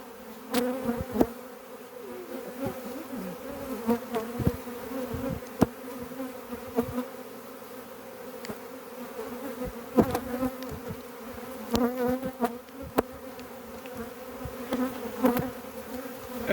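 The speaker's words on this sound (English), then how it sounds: "this hive here is jam-packed full of bees" Honey bees in a crowded four-frame nuc hive hum in a dense, continuous drone, with individual bees zipping close past at intervals over the steady swarm buzz, and no voices present.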